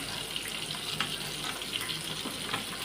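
Jilebi fish pieces fry in hot oil over a medium flame with a continuous close, crackling sizzle and small popping spatters.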